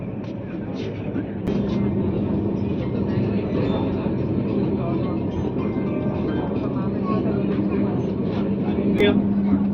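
A Sirpur Kagaznagar–Secunderabad SF Express rumbles along steadily just after leaving Uppal, a loud continuous roar of wheels and carriage with a faint sharp click or two.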